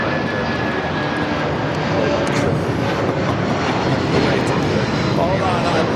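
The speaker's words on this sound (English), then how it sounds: "New Pacific Airlines 9710 taking off to Long Beach." A New Pacific Airlines airliner takes off at Los Angeles International Airport with a loud, steady engine roar that swells slightly, and people talk over it.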